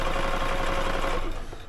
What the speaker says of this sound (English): I actually like to sew a cuff on my sewing machine.